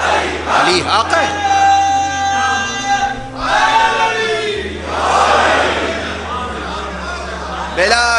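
Crowd at a religious sermon shouting slogans together, a swell of massed voices answering a single amplified speaker whose talk comes before and between the chants.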